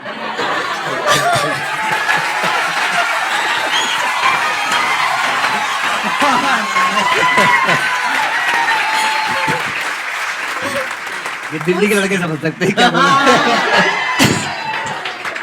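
Studio audience applauding loudly at a Hindi talk show with a celebrity couple, steady clapping with chuckles and scattered cheers throughout, under and between a man's speech.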